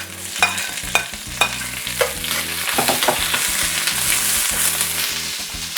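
Vegetables for chicken chow mein stir-fried in a hot pan, loud sizzling under quick scraping and tossing strokes that hit sharply early on and then settle into a steady, dense hiss.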